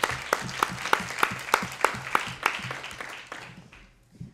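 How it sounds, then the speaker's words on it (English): An audience at a panel event on food production gives a brief round of applause, about a dozen distinct claps in a quick steady rhythm that thin out and fade within a few seconds. "So if we could give them a quick round of applause."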